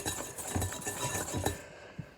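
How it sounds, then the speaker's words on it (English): A whisk beats meringue in a bowl at home, a quiet run of light clinks and scrapes in an uneven rhythm, some stronger knocks standing out, then trailing off near the end. "So I'm going to keep whisking and whisking and whisking and whisking and whisking."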